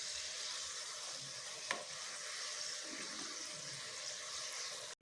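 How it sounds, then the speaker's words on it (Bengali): Gulab jamun frying in hot white oil over low gas, giving a soft, steady sizzle with faint bubbling and a brief knock near the end. "উল্টে পাল্টে লাল লাল করে ভেজে নেব,"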